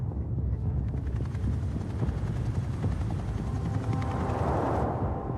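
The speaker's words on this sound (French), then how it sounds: "l'hélicoptère arrive au-dessus de la prison de Réau." A helicopter's loud, steady rotor thrum fills the scene, growing heavier and closer as it hovers over Réau prison.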